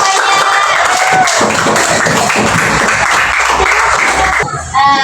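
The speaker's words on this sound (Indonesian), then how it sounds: "Tepuk tangannya dulu semuanya." A class of children clapping together in a classroom, loud and close, with rhythmic bursts and young voices cheering over the claps before a brief pause at the end.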